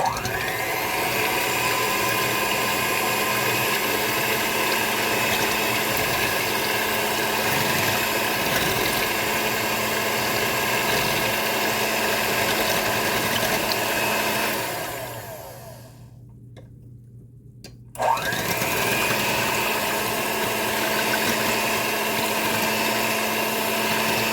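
Electric mixer beating pineapple upside-down cake batter: a loud, steady motor whir runs close throughout, briefly cuts out for a couple of seconds, then resumes.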